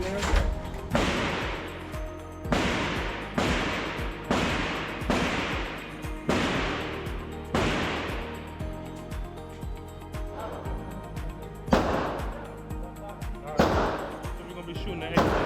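Around ten loud, sharp shots from a 20-inch Pioneer Arms AK rifle crack out at a shooting range, spaced about one to two seconds apart, each trailing a ringing echo, with faint voices in the background.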